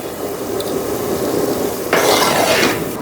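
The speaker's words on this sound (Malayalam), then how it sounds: "ഇതൊന്ന് ഇളക്കാം" A spiced biryani gravy with garam masala and pepper powder is stirred in a cooking pot, making a steady scraping, swishing sound over a low sizzle that grows fuller and louder partway through, with no talking.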